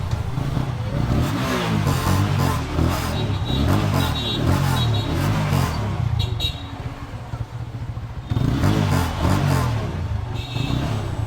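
A TVS Apache RTR 180 motorcycle engine runs steadily nearby after carburetor cleaning, its low rumble constant with a brief dip in the middle before picking back up.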